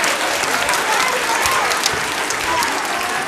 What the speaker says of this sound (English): So I want to give them a round of applause for coming and supporting as well.